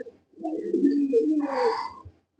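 Pigeons coo in low, throaty, rolling phrases for about two seconds, with a few softer higher chirps overlapping near the end, close and fairly clear with no talking.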